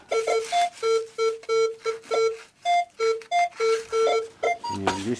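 Metal detector electronic beeping in an attic, short rapid pulses, roughly a dozen tones in an uneven rhythm, loud and close, ending in a warbling descending tone.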